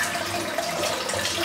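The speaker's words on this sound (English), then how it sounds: "Into the sink, put a bit of water through it" Water runs steadily through a clogged razor into a sink, a continuous splashing rush with no pauses or other sounds.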